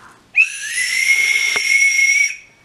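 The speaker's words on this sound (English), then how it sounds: "I got a elephant whistle." A toy elephant whistle is blown hard in one long, loud, shrill blast of about two seconds, with a brief soft click partway through.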